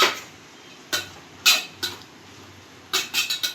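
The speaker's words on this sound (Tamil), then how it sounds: "நல்லா கிண்டிக்கோங்க" A metal spoon scrapes and clinks against a pan while tomatoes are stirred and sautéed. The irregular taps come close, with a few quick knocks in a row toward the end, and there is no speech.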